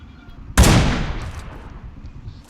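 A single loud gunshot in the battle royale game BGMI during the Ocean Odyssey event, a sharp crack followed by a long, slowly fading echo over a faint background hum, with no talking.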